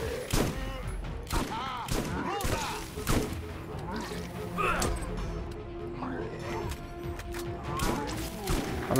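Rapid shotgun fire in the Borderlands Zombie Island of Dr. Ned PC game, with a burst of quick sharp blasts and crashes, then more shots spaced out, while someone talks over the action.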